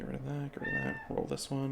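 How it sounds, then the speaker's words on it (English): A cat meows softly in a room during a mobile game session, a short faint call heard under someone talking close by. "That's a cat."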